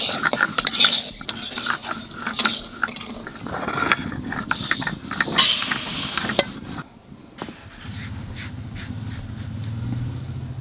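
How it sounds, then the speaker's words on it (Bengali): Mung dal dry-roasted in a pan and stirred with a metal utensil, giving steady scraping and clinking with sharp taps, followed by a softer rattling stretch near the end. "মুগ ডালটা বাজিয়ে নিলাম"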